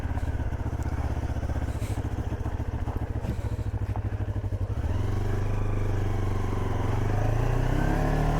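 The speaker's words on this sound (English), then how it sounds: "Little parallel twin bursts into life." A Voge 350AC motorcycle with a parallel twin engine idles with a rapid, throbbing beat close by, then revs up and pulls away with rising engine pitch.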